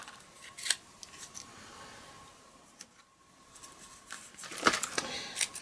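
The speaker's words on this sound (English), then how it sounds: "Just going to snip some of that off because it's too long." Scissors snip through paper while trimming an overlong piece for a handmade card, a few crisp close cuts spaced apart in a quiet room, the last ones coming in a quick cluster.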